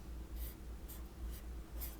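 Pen scratching across a fresh sheet of paper in short, repeated strokes, about four bursts in two seconds, close and fairly quiet over a low steady hum.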